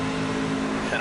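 Race truck engines in the NASCAR 25 video game's Craftsman Truck Series rumble into life together, a steady droning hum with a brief rising rev near the end.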